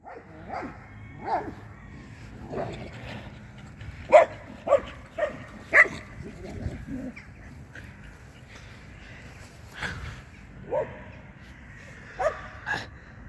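Several Siberian huskies bark and yip in scattered bursts while playing at a moderate distance, with whimpers and panting between, over faint outdoor background.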